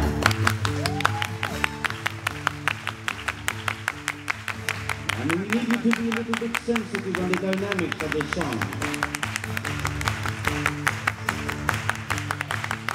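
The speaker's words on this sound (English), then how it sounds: "I'm gonna need you to do a Spanish clap here." A live concert crowd keeps up a steady, rhythmic clap during a show at Amoeba Hollywood, the beats evenly spaced from start to finish while the singer talks and music plays along.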